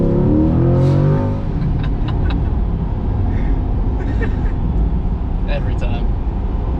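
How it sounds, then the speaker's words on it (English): A Chevrolet Corvette C8 accelerating gently in comfort mode, a low engine rumble rising briefly and then settling into steady cabin road noise, with people talking over it. "that was just a natural push on the gas in comfort mode"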